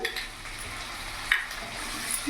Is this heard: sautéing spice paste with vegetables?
yes